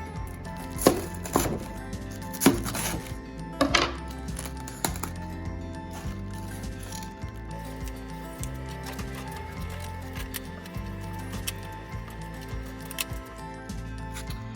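A knife slicing a cored cabbage into very thin shreds for sauerkraut, a few sharp crisp cuts early on, then softer steady chopping over a low background hum.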